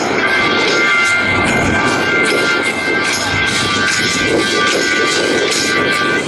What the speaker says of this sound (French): Lorsqu'il se pose, le Rafale est à environ 200 km/h.